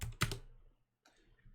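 Keystrokes on a computer keyboard while entering a command at a prompt: a quick burst of loud clicks at the start, a brief silent gap, then a softer run of taps near the end, no voices.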